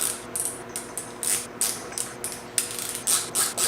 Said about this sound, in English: now we load her in the notcher